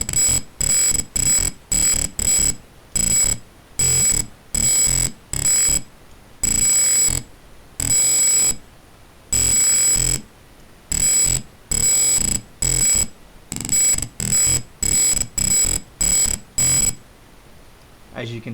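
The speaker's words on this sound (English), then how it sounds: "sharp buzzing noise that will play at increasing intervals as the distance goes up and decrease in intervals as the distance comes down" Sharp electronic buzzer from a simulated car parking sensor, loud and alone, sounding in short repeated bursts whose spacing tightens and widens as the simulated distance changes, with a clear steady high tone in each burst.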